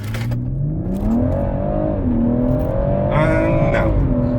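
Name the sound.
BMW M140i accelerating 0 to 60 in Sports Plus mode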